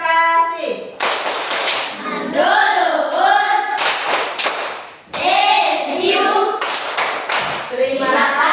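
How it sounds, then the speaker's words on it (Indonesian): A primary school class gives rhythmic patterned clapping as thanks to a presenting group, with loud bursts of hand claps alternating with children's chanting voices. "tepuk terima kasih untuk kelompok 2 yang sudah mempresentasikan hasil diskusi mereka"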